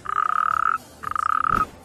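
Common toad calling near Hoyo de Manzanares, two close, steady trilling croaks, each lasting under a second, separated by a short pause.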